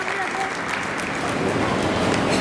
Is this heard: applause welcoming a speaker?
yes